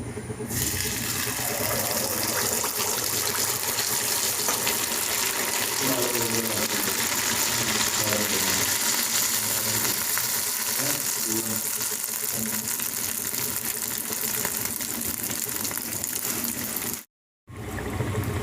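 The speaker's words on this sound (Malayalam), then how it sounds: "ഇനി ഇതിലേക്ക് നമ്മൾ തയ്യാറാക്കിയ മാവ് ഒഴിക്കാം" Neyyappam batter of rice and jaggery hits well-heated oil, setting off a loud, continuous sizzle that holds steady for the whole stretch and cuts out briefly near the end.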